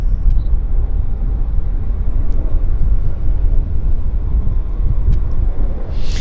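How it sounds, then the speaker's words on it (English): Alaska Airlines airliner taking off at Vancouver airport, heard from outside as a loud, steady low roar with wind rumble that holds throughout without rising or fading. "Got a bit of a takeoff there."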